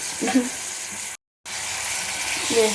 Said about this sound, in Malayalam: നന്നായിട്ട് അങ്ങ് ഇളക്കി കൊടുക്കുക